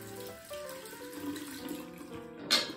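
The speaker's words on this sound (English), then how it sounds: "Okay, I'm just going to rinse my face." Running tap water splashes in a sink as a face is rinsed after a wet shave, a close, uneven patter and trickle with a sharper splash near the end.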